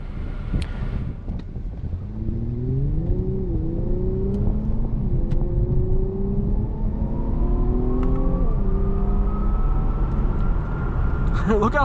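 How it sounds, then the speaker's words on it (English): 2022 Infiniti Q60 Red Sport 400 engine accelerating hard from a standstill, revving loudly through rising pitch with a brief dip at a gear shift, close and sustained under wind noise from inside the cabin. "it just rockets off the line, and the engine sounds really good."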